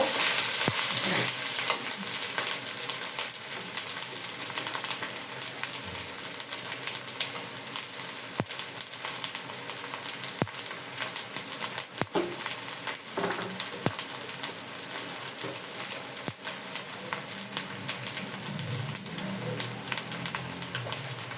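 Red chili powder, turmeric and cumin powder fry in hot oil in a pan with a steady, close sizzle. Faint scrapes of stirring run through it without a break.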